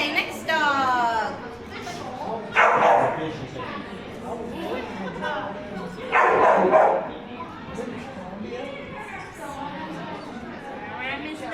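Dog barks at a scent work class, several loud sharp barks and yips in bursts that overlap with people talking nearby.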